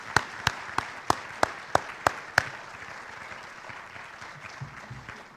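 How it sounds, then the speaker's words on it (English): An audience claps for guest speakers at a leadership event: a handful of sharp, evenly spaced claps up front, then a softer, thinning patter of scattered applause that fades out. "can we give one more round of applause for all of our guest speakers?"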